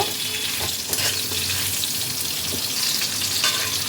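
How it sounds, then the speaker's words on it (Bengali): Bottle gourd pieces fry in oil for a bitter lentil dal, a continuous close sizzle with occasional stirring clatters. "লাউটাকে দু এক মিনিট একটু তেলের মধ্যে সাঁতলিয়ে নেব"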